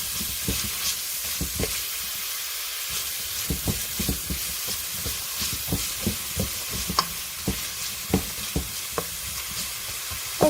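Shrimp-pineapple fried rice being stirred in a pan, a continuous sizzle and hiss of frying with repeated scraping and clattering strokes from the stirring, close and steady with no voices.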